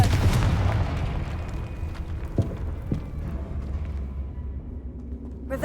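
A Confringo fire spell explosion in the video game Hogwarts Legacy, a low rumbling boom that fades out, with a couple of sharp impact cracks in the middle.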